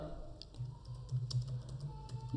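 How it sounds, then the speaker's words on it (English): Quiet keys tap on a computer keyboard in quick, uneven bursts while text is entered into an Excel spreadsheet, with soft clicks close up and no talking. "So here we will type"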